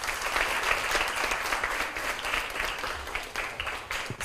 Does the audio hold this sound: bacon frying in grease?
no